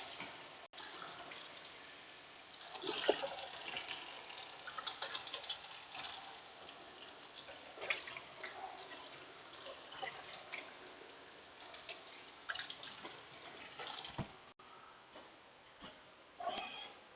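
Faint tap water running steadily while someone washes their hands in a kitchen, a low continuous splash with small clinks and shifts of the stream, no talking.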